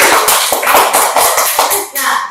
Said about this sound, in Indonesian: Tepuk tangan nih untuk berbagai wanita.